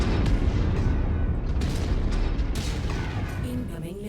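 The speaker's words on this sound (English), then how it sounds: "Incoming missile." Missiles slam in around a mech in MechWarrior 5, a heavy rumbling barrage of booming impacts and crackling blasts, loud and continuous, thinning slightly at the end with a voice beneath.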